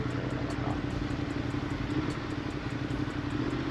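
A Ducati Monster motorcycle rides through a city tunnel, its engine giving a steady, continuous drone with rattling clatter, echoing and close, with no talk.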